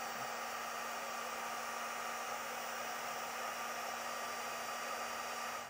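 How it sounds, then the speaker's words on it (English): Heat gun shrinking a butt connector during trailer wiring harness installation on a 2019 Honda Accord, a steady continuous blowing whoosh with a faint hum, unchanging and close throughout. "then we'll take a heat gun to that to shrink it around it"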